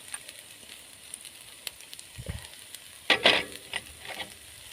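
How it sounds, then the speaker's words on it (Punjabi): Slit green chilies hit a pan of frying onions, with a sudden burst of loud sizzling midway through after quieter crackles and a soft stir, fading back to a low hiss. "ਹੁਣ ਆਪਾਂ ਇਹਦੇ ਵਿੱਚ ਪਾਵਾਂਗੇ ਚੀਰੀ ਵੀ ਮਿਰਚ ਤਿੰਨ ਚਾਰ ਹਰੀਆਂ ਮਿਰਚਾਂ ਚੀਰੀਆਂ ਸੀ ਆਪਾਂ"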